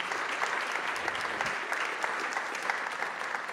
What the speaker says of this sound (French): Je pense qu'on peut à nouveau applaudir le professeur Slama.